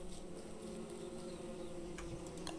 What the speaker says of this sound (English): I don't want all these angry bees